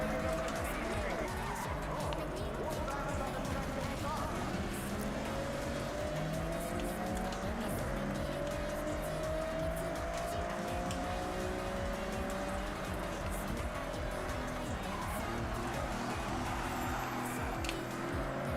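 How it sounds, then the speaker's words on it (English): Tyres squeal in a Forza Horizon 6 racing game set on Japanese roads, with pitched screeching sweeps rising and falling over a constant roaring engine and driving noise for the whole stretch. "Some nice tyre squealing going on."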